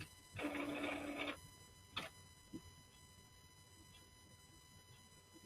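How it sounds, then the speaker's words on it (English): A printer starts up unexpectedly in a quiet room with a brief whirring burst of about a second, followed by a couple of faint mechanical clicks. "That was the printer, guys."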